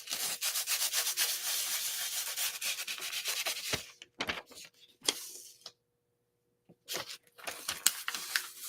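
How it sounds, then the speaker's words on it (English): Rubbing and burnishing a craft surface, with continuous close, brisk scraping strokes that stop, then short rubbing bursts after a silent gap. "Oops, I forgot to burnish it."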